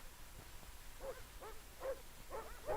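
Sled dogs kept by navy crews in Antarctica bark and yip in a handful of faint, rough barks about half a second apart, growing a little louder over a hissing background.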